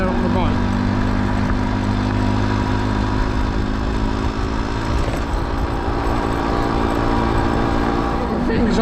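A small Yamaha YB100 motorcycle with a smoky engine runs steadily at a low, even idle, a constant drone that holds the whole time with no revving, out on a road in Ireland.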